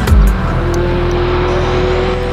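A Toyota AE86 Trueno on a straight, its engine holding a steady, loud drone with a sustained tone and a brief initial burst, continuous throughout with no talking.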